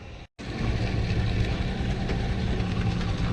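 A motorcycle follows behind an e-rickshaw on the road, giving a steady low engine drone that holds evenly after a brief dropout at the start.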